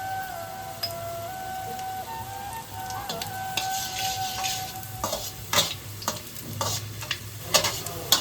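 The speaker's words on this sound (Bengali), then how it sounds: "আমি কেটে রাখা উচ্ছেটাকে এবার ভেজে নিচ্ছি।" Chopped bitter gourd (karela) fries in hot oil to a dark crisp, a steady close sizzle broken by repeated scraping stirs and clacks of the spatula, with no talking.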